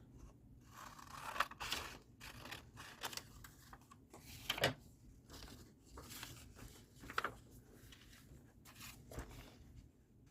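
Scissors trim paper for a small folding scrapbook in a quiet room, making a run of soft, close snips and crisp cuts at an uneven pace.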